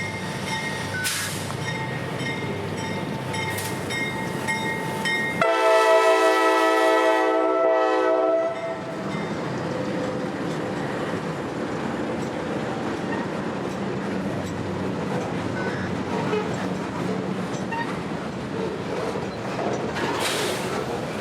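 A CSX freight train led by two vintage Dash 8 locomotives rolls steadily past near a trackside industrial area in Port Tampa, with a loud horn blast partway through and continuous wheel and car rumble.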